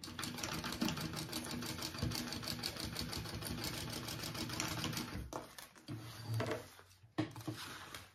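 A sewing machine runs in rapid, even stitching bursts while basting fabric for a bag, then stops and starts with a few short pauses and handling clicks near the end, quiet and close.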